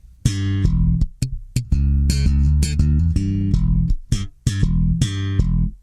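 Close, loud electric bass line with the shape switch in, cutting the mid-range, plucked notes with a dark, full low end and a rhythmic pattern of sustained tones and quick muted hits.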